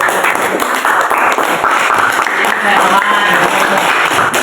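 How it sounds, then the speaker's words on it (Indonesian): A classroom of students applauding a classmate, a dense, loud burst of clapping that carries on throughout. "Ya, kita beri aplaus untuk Arga."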